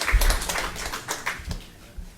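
Applause at an HIV-elimination forum after a comment, a short burst of clapping hands lasting about two seconds, fairly close and fading quickly.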